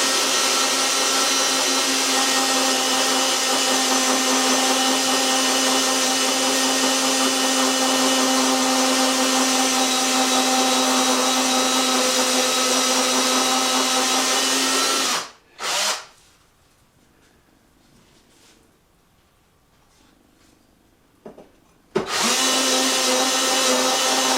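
A Porcadrill 365 diamond-tip bit grinds steadily into wet tile with a loud, continuous power-drill whine for about fifteen seconds, then stops, a short burst follows, a quiet pause, and the drilling resumes near the end.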